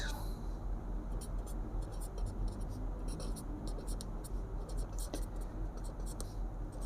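Pen scratching across paper while a math question is written out by hand, faint and close, a soft continuous scratch under low background hum.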